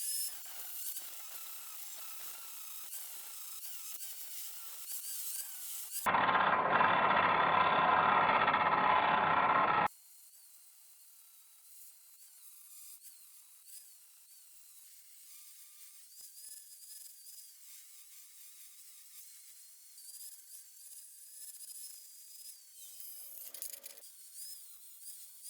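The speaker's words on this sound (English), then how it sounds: "Because these welds are so chunky, I'm gonna grind them down." Angle grinder grinding down chunky welds on a small metal rocket stove, a loud harsh burst of grinding for a few seconds set between quieter stretches of low motor whine.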